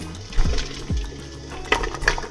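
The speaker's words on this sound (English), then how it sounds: "use our jar lifter to put it back in the hot water" A jar of home-canned jam is lowered with a jar lifter into a pot of hot water, producing close, quiet sloshes, gurgles and a couple of light clinks over a faint background hum.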